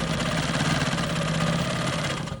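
A quilting machine stitching in the ditch along a diamond quilt block runs with a fast, steady mechanical whir and rapid needle rhythm, close and continuous, with no talking.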